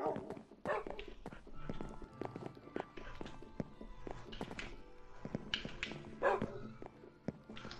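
Dog barks in Minecraft PlayStation 4 Edition sound close and mid-loud, scattered through a busy game mix of footsteps and clip-clop-like hoofbeats, with no talking over it.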